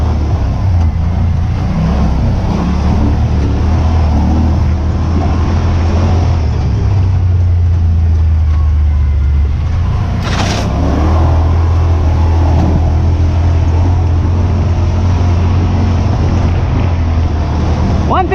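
A Yamaha Wolverine X4 side-by-side fitted with Walker Evans shocks drives through mud, its engine droning loud and steady throughout with wind rush and a brief thump of a bump partway through.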